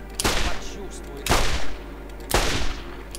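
Three loud, close gunshots from the video game Borderlands: The Zombie Island of Dr. Ned, evenly spaced about a second apart, each a sharp blast with a short rumbling tail.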